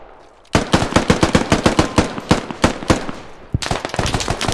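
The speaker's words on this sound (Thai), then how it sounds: "เสียงปืนโคตรเยอะเลย" Heavy automatic gunfire from a Squad military shooter game comes in rapid loud bursts of rattling shots close at hand. It stops for a moment near the end and then starts again, with no talking over it.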